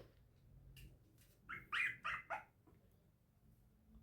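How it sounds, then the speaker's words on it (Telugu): Small puppies bark and yelp faintly in the background indoors, a quick cluster of three or four high, thin barks after a quiet stretch, with low room hum throughout. "చిన్ని చిన్ని పప్పీస్ అరుస్తున్నాయండి"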